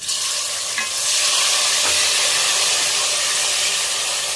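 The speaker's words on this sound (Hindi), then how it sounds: "अब हम इसके अंदर टमाटर डाल देंगे।" Masala frying in a pan as tomatoes go in, with fresh coriander and two chillies already lightly fried, giving a steady close sizzle and hiss with a brief stirring clatter, no talk.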